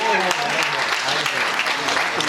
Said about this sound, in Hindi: इसलिए एक जोरदार ताली आप अपने लिए।